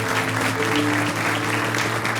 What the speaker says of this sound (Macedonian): Дайте си аплауз, дайте си аплауз.